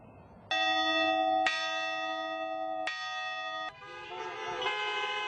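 Loud, sustained ringing tones from a seaside drive-in church in Florida, with fresh strikes roughly every second or so and car horns in a large parking lot sounding along with the bells.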